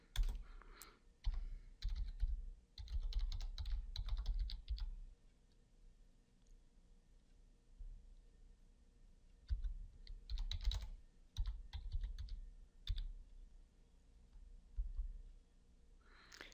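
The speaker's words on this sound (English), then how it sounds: "Now I can just type the import Excel using command." Keys clatter on a computer keyboard as a command is typed, in quick bursts of clicks broken by short pauses, close and fairly quiet in an otherwise still room.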